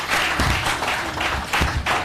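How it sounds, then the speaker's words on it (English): An audience at a Lagos hackathon event applauds a company CEO after her introduction, a short burst of clapping that swells and dips in uneven waves at moderate volume. "A round of applause for her, please."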